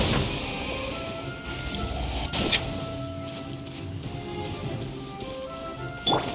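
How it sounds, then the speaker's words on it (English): Heavy rain falls steadily in the Genshin Impact video game, a continuous hiss of downpour with a few brief louder splashes and faint tonal game sounds underneath. "This heavy rain must be quite an inconvenience for you."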